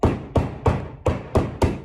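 Six heavy, regular thuds of eggplants being pounded on a towel, close and loud, each blow followed by a short dull decay.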